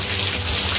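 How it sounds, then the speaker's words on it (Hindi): Heavy rain pours steadily at a college campus, a dense, continuous hiss of downpour filling the whole short moment without a break. "तो आज यहाँ पर बहुत ज़्यादा बारिश हो रहा है"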